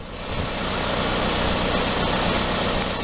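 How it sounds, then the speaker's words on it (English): A used car's engine idles steadily, a loud, constant mid-to-low rumble that holds even for the whole stretch with no revving or voices. "You remember I said let's leave the car idling for 5 or 10 minutes, and it's been doing that"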